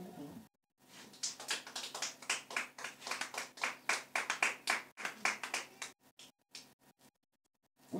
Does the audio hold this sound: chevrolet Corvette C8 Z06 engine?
no